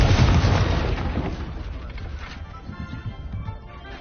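The Confringo explosive spell in Hogwarts Legacy lands with a loud, rumbling blast, and the burst fades into crackling debris over a few seconds.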